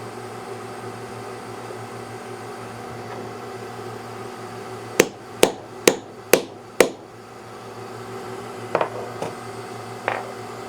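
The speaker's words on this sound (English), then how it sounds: "There the rivet's set," A rivet is set on a leather key fob with five quick, sharp hammer blows in a steady rhythm, close and distinct over a low background hum, then a few lighter taps follow.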